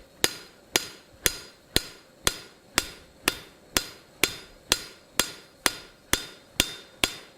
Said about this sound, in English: I am going to spread out with the cross peen of the hammer